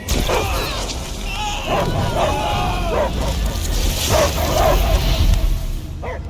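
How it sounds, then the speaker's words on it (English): A creature barks and yips repeatedly in Marvel's Guardians of the Galaxy video game, loud dog-like bursts mixed with whimpers and crashes, close and overlapping with game voices. "I hear only barking"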